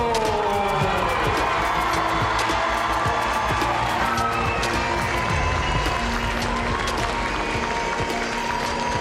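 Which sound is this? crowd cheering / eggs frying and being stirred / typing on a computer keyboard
crowd cheering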